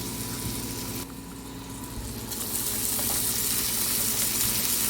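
Onions going into a pan of sizzling curry leaves and pandan leaves for fried rice, a steady broadband sizzle that swells louder partway through as the onions hit the hot oil, with a low background hum and no talk.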